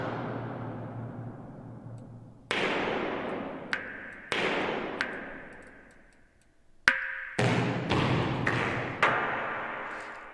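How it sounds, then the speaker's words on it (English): Several huge cinematic trailer percussion silo booms strike one at a time, each with a sharp attack and a long ringing decay, spaced irregularly with no other sound. "those silo hits are absolutely massive, or silo booms"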